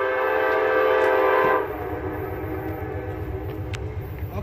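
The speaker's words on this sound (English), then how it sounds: "Here comes another train. Amtrak." An Amtrak train passes close by, a loud sustained horn blast for about a second and a half that cuts off into the rumble and clatter of the rolling cars.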